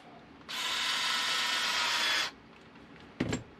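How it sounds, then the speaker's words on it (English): Screws being driven back into the rear underside of a Traxxas Bandit VXL RC car chassis, a close, steady ratcheting whir lasting about two seconds, then a short knock near the end. "So now we got to put the 6 screws back in the rear, underneath"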